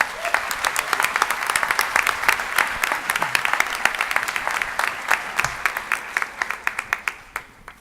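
A convocation audience breaks into sustained applause welcoming the speaker, dense clapping throughout that thins into scattered individual claps near the end.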